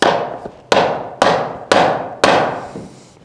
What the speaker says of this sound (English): if we hammer this one onto here